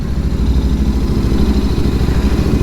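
A Royal Enfield Interceptor 650 fitted with a Power Range exhaust idles close by, giving a steady, loud, low throbbing burble with an even pulse throughout and no voices.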